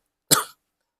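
A single sharp cough, close and loud, breaks otherwise silent air.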